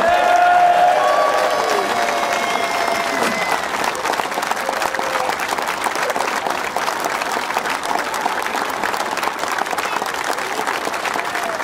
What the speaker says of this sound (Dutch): Applaus ervoor.